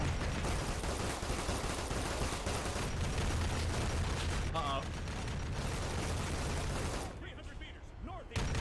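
Gunfire from a Contemptor Dreadnought's weapon in an Arma 3 Warhammer battle, heard as a dense, continuous roar of rapid shots with people talking over it. The firing briefly thins out just before the end.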